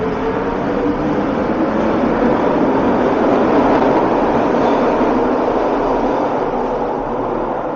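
Main Street train station in Vancouver: a loud, steady roar of a passing train close by, a continuous rumble and rush that holds level the whole time.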